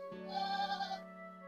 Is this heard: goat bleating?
yes